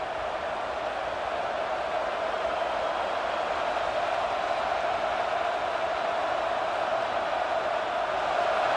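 A packed stadium crowd at a Michigan vs Arkansas college football game roars for the defense on third down: a loud, steady wall of crowd noise that holds for the whole stretch without letting up.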